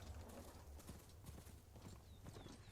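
Horse hooves clip-clop in a steady, rapid rhythm in a video game, continuous and fairly faint under a dense layer of game noise.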